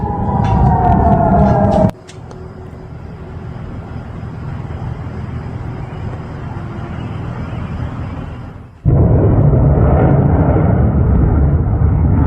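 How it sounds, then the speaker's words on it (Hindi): Air raid sirens wail in Tel Aviv after a missile attack, a falling tone heard at the start before the sound cuts to a long, broad roar of noise and then a louder rushing stretch. "हमले के बाद इजराइल के तेल अवीव में सायरन बजने लगे।"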